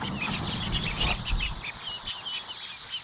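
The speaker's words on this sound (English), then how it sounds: "Ducks." Ducks call in a short burst of bright, nasal quacks near the start, then quieter scattered calls over a soft outdoor background, moderately distant.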